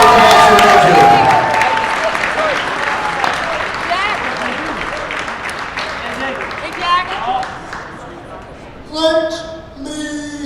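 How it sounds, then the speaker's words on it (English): Loud applause and cheering from a crowd at a high school unified basketball tournament, strong at first and tapering off, with a voice speaking over it toward the end. "Big round of applause for Andrew."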